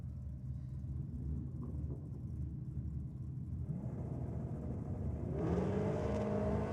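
A drag racing car on a nitrous-fed pass launches hard off the line at a night drag and burnout event in Sydney, its engine rising from a rumbling idle into a loud swelling roar with a climbing pitch.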